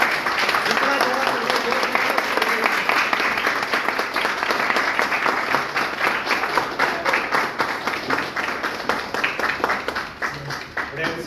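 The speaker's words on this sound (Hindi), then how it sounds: "एक बार खड़े होकर सब लोग जोरदार तालियों से स्वागत करेंगे" A seated business-meeting audience rises into loud, dense applause that holds steady for several seconds, with a voice speaking over the clapping.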